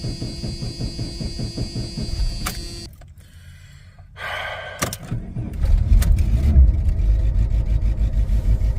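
A rescued, long-neglected K car engine turns over after some faltering sounds and a brief lull. It then settles into a rougher, louder idle rumble as it warms up nearby.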